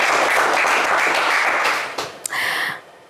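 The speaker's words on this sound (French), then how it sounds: "on vous applaudit quand même" A television game-show studio audience bursts into full applause that fades after about two seconds, followed by a brief louder sound and a short musical sting.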